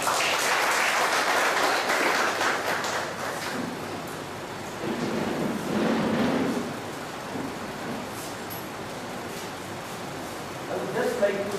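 Sustained, dense applause from a lecture-hall audience welcoming a guest speaker onto the dais, loud and steady with a swell midway, then fading slightly as a voice begins near the end.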